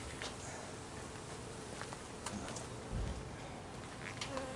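Honey bees hum faintly around a backyard hive in a continuous low buzz, with soft outdoor background noise and a brief muffled thump.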